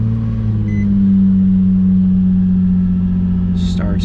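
A stock Nissan 350Z with manual transmission idling just after starting, a loud, steady low engine drone held close throughout, with a brief faint click near the end.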